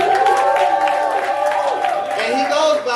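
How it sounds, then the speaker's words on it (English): A crowd applauds and cheers loudly and steadily for a poet at a four-year anniversary poetry event at the Rialto Theater on Juneteenth, with whoops and shouts over continuous clapping. "Give it a round of applause."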